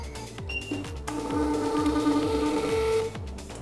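A restaurant or hotel billing machine printing a bill receipt: a rapid, regular mechanical pulsing with a whining tone, close and steady for a few seconds before stopping.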